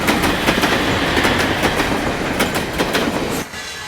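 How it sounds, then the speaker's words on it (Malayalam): A train rolls into a railway platform, its loud, close rumble joined by rhythmic clickety-clack of wheels over rail joints, then dropping away sharply near the end. "ഒന്നാം നമ്പർ പ്ലാറ്റ്ഫോമിലേക്ക് ട്രെയിൻ വന്നുകൊണ്ടിരിക്കുന്നു."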